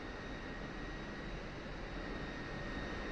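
An F-16 jet engine taxiing in the DCS flight simulator, heard as a steady, loud, unbroken roar and whine with no change throughout.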